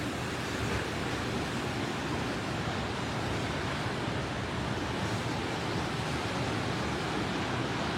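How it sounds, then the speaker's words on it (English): Steady broadband roar of tsunami surge waves at Pleasure Point, Santa Cruz, California, continuous and loud with wind-like wash throughout, no voices. "And now the ocean is going back out"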